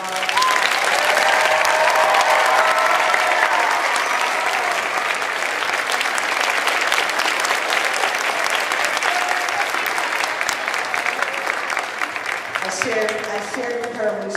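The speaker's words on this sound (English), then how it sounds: "Let's give her another round of applause" A school auditorium audience at a Martin Luther King program applauds an alumni speaker, sustained dense clapping from a large crowd that tapers near the end as a voice begins speaking.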